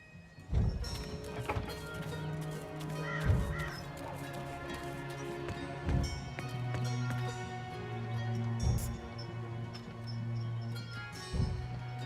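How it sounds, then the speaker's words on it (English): In the video game Dreamfall Chapters, a talking bird lets out several hoarse caws spaced a few seconds apart, alongside clopping hoofbeats and a low droning hum in the game's background. "Go look for that goddamn bird over there."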